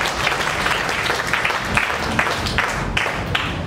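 Congregation members at a Swahili church service clap together in a second round of steady, dense applause. The clapping stays close and even in volume, with a few sharper claps standing out.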